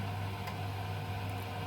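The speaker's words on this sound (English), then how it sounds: "So you can hear air in the pump right now." A Baxi combi boiler pump runs with air trapped inside, giving off a steady low hum and a faint whooshing hiss, close and unchanging, with no talking.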